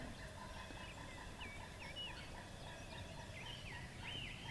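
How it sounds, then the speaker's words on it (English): A wild turkey gobbles repeatedly out in an open field, its rattling calls sounding at a moderate distance over a steady outdoor background, with other birds chirping faintly. "Turkey just walked out there in the center of the field where he was at this morning, and it's just gobbling"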